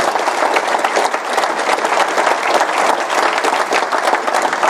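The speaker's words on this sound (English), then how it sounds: "I just want to ask for one quick round of applause for the Albany area John Birch" Sustained applause from a large audience at an Albany-area John Birch Society gathering, dense steady clapping filling the room without a break.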